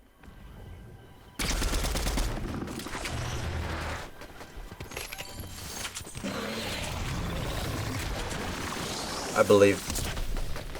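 Gunfire in Fortnite rattles in dense, fairly loud automatic bursts and scattered shots against continuous game noise, with someone speaking briefly over it.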